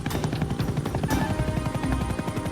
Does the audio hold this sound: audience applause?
no